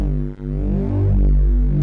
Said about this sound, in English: remember, the original bass signal sounds like this